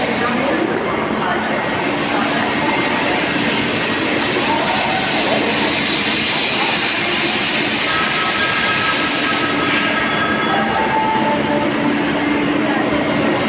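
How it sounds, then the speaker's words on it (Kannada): Steady train and rail noise fills a busy Mumbai railway station, with a continuous rumble and clatter throughout and faint voices mixed into the background. "ಇದು ನೋಡಿ ಮುಂಬೈ ರೈಲ್ವೆ ಸ್ಟೇಷನ್ ಎಷ್ಟು ಚೆನ್ನಾಗಿದೆ"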